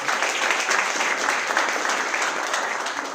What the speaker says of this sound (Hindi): तो हम लोग तालियां तो बनती ही हैं हमें।